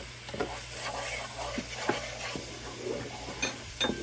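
A spoon stirs milk powder into a Parle-G biscuit barfi mixture in a pan, giving soft scraping strokes and light clinks, quiet and close, with a faint low hum underneath.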